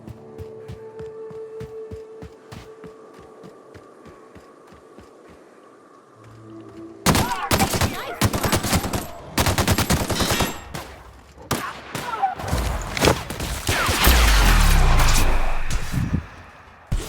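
Gunfire in The Lost Citizens video game: quiet rhythmic tapping at first, then loud bursts of rapid automatic fire with heavy impacts and a deep boom near the end, dense and close.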